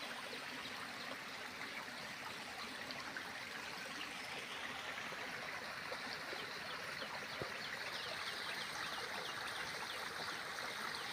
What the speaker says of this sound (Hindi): झरना कना